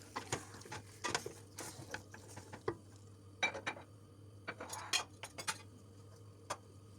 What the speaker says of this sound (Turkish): Şimdi aygazımızda güzelce etimizi böyle e, suyunu bırakana kadar biraz kavuralım.